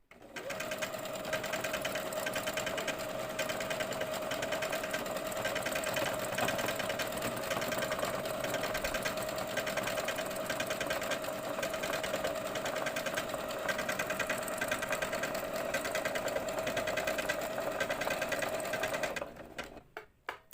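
A sewing machine stitches a children's skirt with a steady, fast mechanical whir and rattle. It runs close and continuous for nearly twenty seconds, then winds down and stops.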